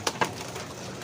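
Young pigeons in a loft give two short soft calls or flutters near the start, then fade into low, quiet background murmur, close by and brief, with no talk.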